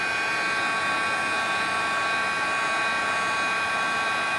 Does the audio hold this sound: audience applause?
no